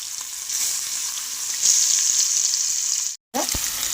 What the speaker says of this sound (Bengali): কড়াইয়ে তেল বসিয়েছিলাম ওটা গরম হয়ে আস্তে আস্তে করে মাছগুলো ভেজে নিলাম